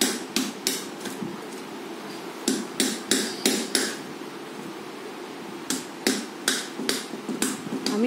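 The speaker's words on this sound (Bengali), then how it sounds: "এবার হ্যামারটা আমাকে দিয়ে দাও।" A hammer strikes a red clay money pot in repeated sharp knocks, arriving in two clusters of four to five hits separated by a pause, close and fairly loud over a quiet room.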